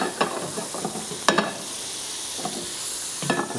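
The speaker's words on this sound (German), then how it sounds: "Dafür gebe ich dann ein ordentliches Stück Butter in die Pfanne." A generous piece of butter melting in a frying pan, sizzling softly and steadily at close range, with a few clinks and scrapes of stirring over the hiss.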